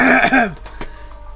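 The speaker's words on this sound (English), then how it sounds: "You need to get that cough checked out." One harsh, throaty cough, loud and close, followed by a brief breathy rasp.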